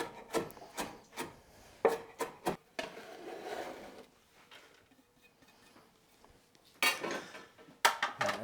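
A knife chops cilantro finely on a cutting board in irregular bursts of crisp, close taps, with a quieter stretch of soft scraping and rubbing in the middle before the rapid chopping resumes.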